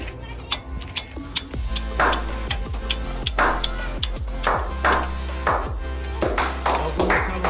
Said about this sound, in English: what happens here is you get a hammer